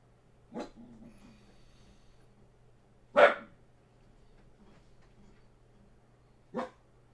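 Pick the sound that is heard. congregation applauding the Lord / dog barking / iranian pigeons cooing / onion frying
dog barking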